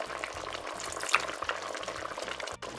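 Chicken colombo sauce with crème fraîche and lime simmering in a pan as it is stirred, a soft bubbling and light sizzle with faint spoon scrapes, fairly quiet and steady throughout.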